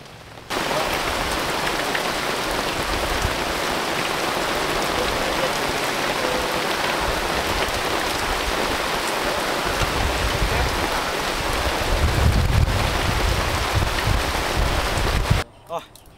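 Heavy rain pours steadily on an outdoor riverside camp along a village canal, a loud, dense hiss lasting about fifteen seconds, with a low rumble of thunder near the end before it cuts off abruptly.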